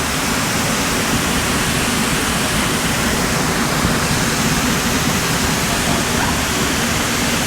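Sgwd yr Eira waterfall in the Brecon Beacons, swollen with snowmelt, roars as a loud, steady, broadband rush of falling water that holds constant throughout with no pauses.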